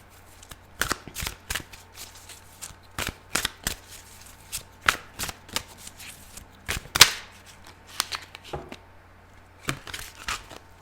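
Tarot cards being shuffled by hand during a reading, a run of crisp, close flicking riffles and slaps in irregular bursts, steady and fairly loud with no voice over them.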